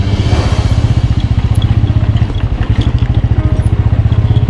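A motorcycle climbs uphill on a valley mountain road, its engine giving a loud, close, rapid regular thumping beat with rattling clatter over it, steady throughout.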